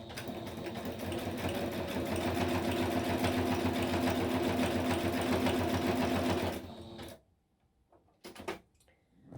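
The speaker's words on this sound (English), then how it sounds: "Maybe I'll just do a little stitch just up to here as well." A sewing machine stitches through paper for a handmade guest book, its rapid, even mechanical chatter running steadily for several seconds before stopping abruptly, followed by a few faint clicks.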